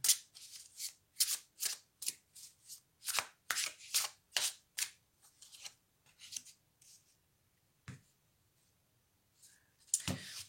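Tarot cards are shuffled and drawn by hand, close and quiet: quick papery riffles and slaps in short clustered bursts, then sparse single snaps after pauses of near silence.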